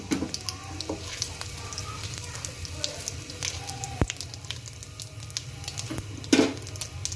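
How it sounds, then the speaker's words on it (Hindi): Cumin seeds sizzle steadily in hot oil for a kadhi pakora tempering, a constant crackling fry with a few sharper pops and stirring scrapes throughout. "ज़ीरा जैसे ही ब्राउन होगा तो हम इसका तड़का लगा देंगे।"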